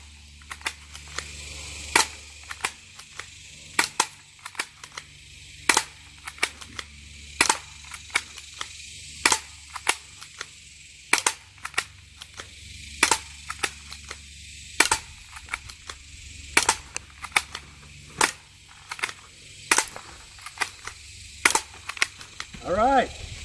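Repeated sharp gunshots from a reaction-versus-action gunfight drill, about two dozen loud cracks at irregular intervals, some in quick pairs, with short pauses between volleys.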